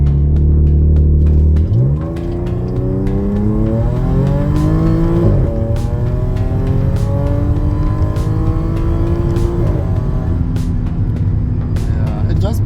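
An Audi S4 engine idles, then revs hard with traction control off and the gearbox in sport for a launch control attempt. Pitch climbs in uneven surges, loud and close, with brief clicks and a voice over it.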